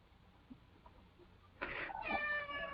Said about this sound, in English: Oh, poor kitty. She's in a lot of pain.